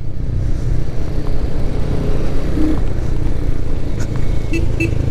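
A Royal Enfield Hunter 350 motorcycle accelerates nearby with a loud, continuous low engine rumble and a rising rev, steady throughout with no speech.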